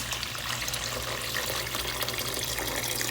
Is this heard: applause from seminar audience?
no